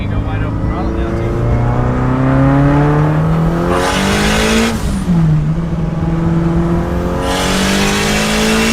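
A turbocharged car accelerates hard at wide open throttle, engine pitch climbing steadily through two gear changes with brief whooshing breaks between them, loud and close from inside the cabin.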